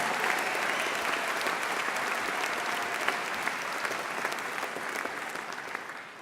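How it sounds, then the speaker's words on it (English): A graduation ceremony audience at Symphony Hall in central Birmingham gives sustained, dense applause for families and friends, a steady wash of many hands clapping at full strength throughout. "let's have a huge round of applause for families and friends,"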